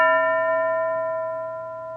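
A single bell strike rings out with a clear, steady harmonic tone that slowly decays over two seconds, alone and without any talk.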